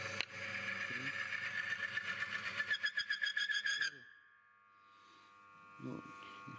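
A motor oil friction test rig runs under load with Mobil oil, its motor buzzing loud and steady, pulsing faster and rougher before cutting out abruptly and leaving a faint fading hum; a voice speaks briefly near the end.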